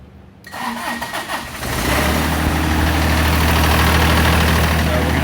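A Ventrac 4200 tractor engine cranks and catches, then settles into a loud, steady, close idle that drones on without a break.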